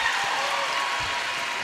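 A roller derby crowd at the 2017 WFTDA Division 1 Playoffs in Malmö (Denver vs Stockholm) applauds in a steady, dense wash of clapping that fills the arena, with faint talk underneath.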